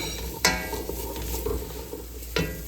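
Asparagus sautéing in a pot for cream soup sizzles steadily up close, broken by two sharp utensil scrapes or knocks against the pot, with no talking.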